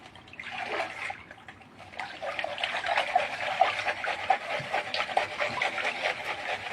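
Water washes light material off the top of a gold pan in a gentle, wave-like motion, giving a soft continuous swishing and trickling close by with no talk.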